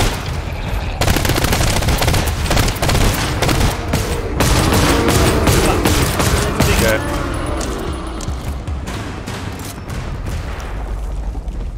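Rapid bursts from the PDW gun in the game GTFO, loud close-up automatic fire in repeated volleys with short gaps, dense and continuous for most of the stretch before easing off.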